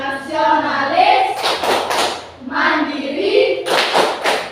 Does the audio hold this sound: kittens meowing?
no